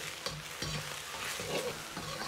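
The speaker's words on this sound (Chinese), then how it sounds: "炒香后下入控干水分的香料，炒出香料里边多余的水分" Drained spices stir-frying in a hot wok for braised lamb ribs, a crackling sizzle with scraping spatula strokes and occasional knocks, close and steady.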